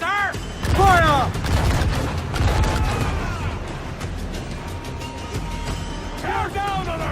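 Musket volleys ring out in an Assassin's Creed game battle, dense overlapping gunfire and booms mixed with shouted orders and voices throughout, loud and continuous.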